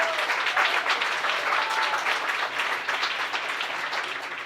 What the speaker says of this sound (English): So much clapping this morning.